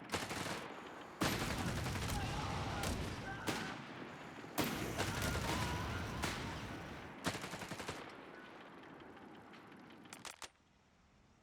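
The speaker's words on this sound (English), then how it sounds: "Machine gun sets up at just the right time to catch these riflemen." Machine gun and rifle fire in the real-time strategy game Company of Heroes 3, long loud bursts of rapid automatic fire broken by short pauses and single sharp shots, fading to near silence at the end.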